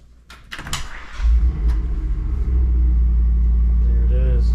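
A Jeep, with an off-road mode button, thumps shut and its engine rumbles to life, building to a loud, steady low drone up close.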